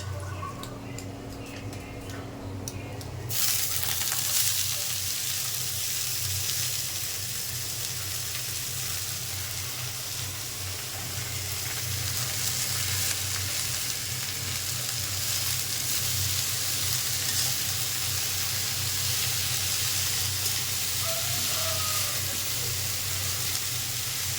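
Data shak (stem amaranth greens) hits hot oil with browned onions in a pan, setting off a loud, continuous sizzle that swells after a few seconds and keeps crackling steadily.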